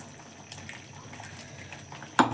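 Water pours briefly into a cooking mixture of cucumber and rice for a Konkan cucumber cake, a short splash near the end after quiet kitchen background.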